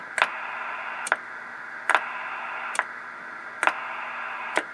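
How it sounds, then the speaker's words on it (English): From the speaker of a Drake TR-3 transceiver comes a faint steady rushing hiss, broken by six evenly spaced clicks about a second apart as the sideband setting is switched. "making the noise or the rushing sound out of the speaker sound similar as you go"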